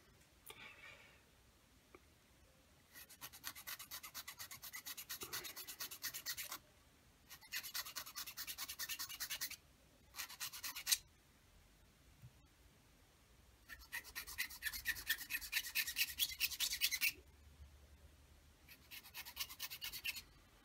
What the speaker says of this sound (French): On va prendre la petite lime et nous allons limer tout ça pour que cela soit plus propre.